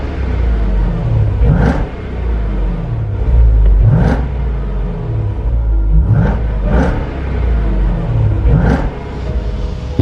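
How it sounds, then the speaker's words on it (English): A 700 bhp Jeep Grand Cherokee Trackhawk V8 muscles through a steady loud rumble, with four sharp revving surges spaced a couple of seconds apart over the idle. "Start the car and immediately you know you're in a muscle car."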